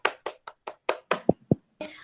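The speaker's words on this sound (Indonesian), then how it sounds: "beri tepuk tangan untuk kelompok 3" A few people clapping for a group during a class, sparse individual claps in an uneven rhythm, close and fairly quiet, with a short burst of voice at the end.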